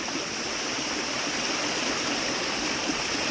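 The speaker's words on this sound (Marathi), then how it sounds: "एक छोटासा वॉटरफॉल दिसला आपल्याला बघा, धबधबा इथून जसा व्हायतो." A continuous rushing roar of water from a small monsoon waterfall on a hill trek, steady and close, with no other sounds.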